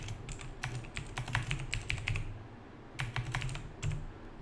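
Fast typing on a computer keyboard fills the recording in two close, busy bursts of key clatter with a short pause between them, and no voices.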